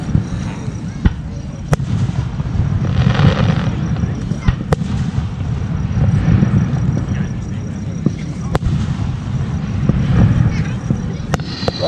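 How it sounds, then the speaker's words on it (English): Fourth of July fireworks pop and crackle in scattered sharp bursts over a steady rumbling background, some cracks louder and nearer than others. "Look, there's a firework going on."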